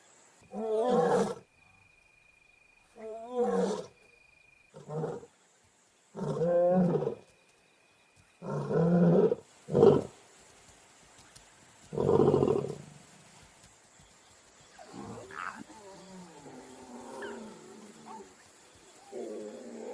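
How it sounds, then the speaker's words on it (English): A lion pride roars at night, about seven deep, loud bursts in a rhythmic series, close and resonant with silence between them, then fading into quieter grunts and moans toward the end. "the roar can be heard over 8 kilometers away"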